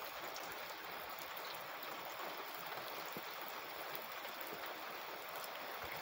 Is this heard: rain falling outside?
yes